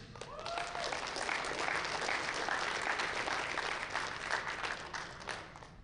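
A crowd at a powerlifting national championship medal ceremony applauds steadily for several seconds, the clapping swelling and then tapering off at the end, with no clear speech on top.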